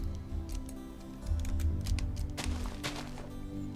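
Computer keyboard clicks while playing Minecraft, faint scattered taps and clicks over a steady low background hum, with no voice.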